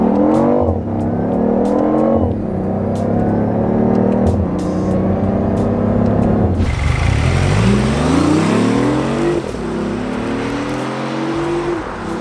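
A BMW i8 sports car drives along while its engine revs repeatedly, each rise in pitch followed by a drop between gear changes, loud and close, with a strong surge of acceleration partway through and no talk.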